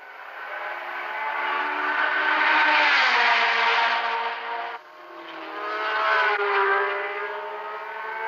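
Racing cars at the 1972 Le Mans 24 Hours sweep past in a loud, sustained engine roar that swells, dips sharply near the middle, then builds again as more cars pass close by.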